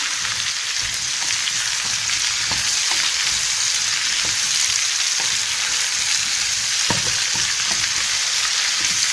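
Potatoes sizzle and fry in a pan for an English-style pumpkin stew, a steady loud hiss with occasional soft scrapes and knocks as they are stirred, close up and with no voices.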